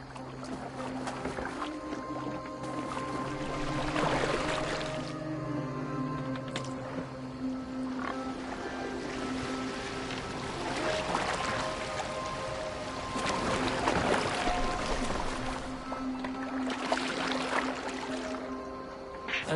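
Oars splash and creak rhythmically as a longboat is rowed across water in Assassin's Creed Valhalla, under a low ambient drone and faint tonal music.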